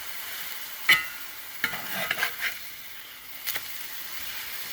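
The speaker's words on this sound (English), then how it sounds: "watch them because they don't take long to fry" Thin burger patties fry in a cast iron skillet, a faint steady sizzle broken by a few sharp scrapes and clinks around the pan.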